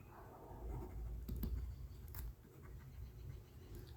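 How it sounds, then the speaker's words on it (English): A pen scratches across paper in short strokes while figures are noted for an A Level accounting exam question, close and fairly quiet, with a few clicks and no speech. "So we need to write that down as well."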